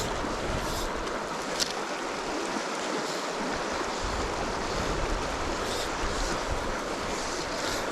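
Raging river water rushes through a canyon, a steady loud broadband roar with constant turbulence and faint wind across the mic, no voices.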